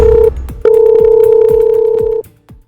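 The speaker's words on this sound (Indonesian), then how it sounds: "itu HP kamu bunyi terus" A mobile phone rings loud and close in an Indonesian animated drama, a steady electronic tone in two long bursts with a brief gap between them and no talking over it.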